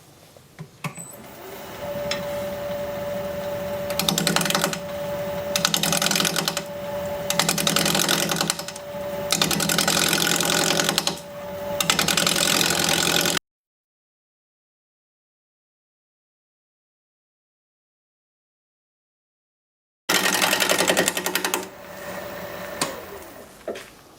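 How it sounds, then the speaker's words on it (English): A wood lathe turns a spalted junk wood bowl at 650 RPM while a 5/8 inch bowl gouge cuts it, making loud rhythmic bursts of scraping and whirring with a steady hum, then a long silent gap before cutting resumes. "We're going to be turning at 650 RPM, 5/8 inch bowl gouge, mask, and face shield on."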